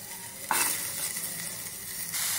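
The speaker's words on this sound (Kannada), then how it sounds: "ಇವಾಗ ನಾನು ಈರುಳ್ಳಿನ ಹಾಕ್ಕೊಂಡು ರೋಸ್ಟ್ ಮಾಡ್ಕೋತೀನಿ." Chopped onions and capsicum roast on a hot tawa, giving a steady close sizzle with a sharp stirring scrape near the start and no voices.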